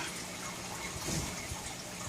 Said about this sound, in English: This one is a power head